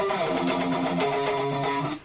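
Guitar plays a fast alternate-picked phrase on the low 6th and 5th strings, rapid even notes, moderately loud, for about two seconds before cutting off.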